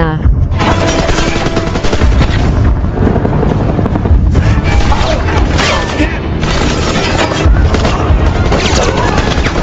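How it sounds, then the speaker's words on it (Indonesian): Sustained loud gunfire and heavy explosions over a whirring rescue helicopter firing on crew members, dense and continuous throughout, with a voice faintly mixed in. "helikopter penjemputan datang dan membombardir menembaki para awak di sana"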